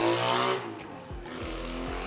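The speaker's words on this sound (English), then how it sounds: "Bullshit Honda that sound like a motorcycle." A Honda car with a loud, buzzy, motorcycle-like exhaust roars past nearby, its engine note rising and then dropping away as it passes, with no talking.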